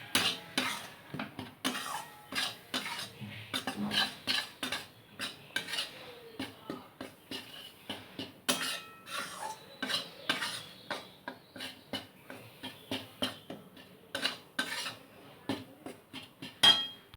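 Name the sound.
stirring and frying besan in ghee in pan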